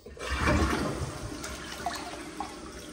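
A new Kohler Irvine toilet flushes once, with a loud rushing surge of water up close that settles into a softer swirling drain and refill.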